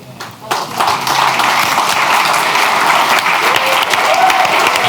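Audience at a faith and belief community awards ceremony in London applauding honoured individuals, sustained dense clapping from a large crowd after a brief quieter start, steady and loud throughout.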